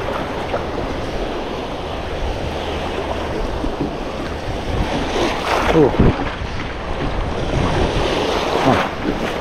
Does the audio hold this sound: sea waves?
yes